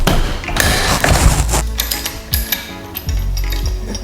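A ratchet wrench clicks away on a bolt holding the adapter plate of a motorcycle center lift stand, a close, loud run of rapid pawl clicks broken by short pauses and metallic clunks.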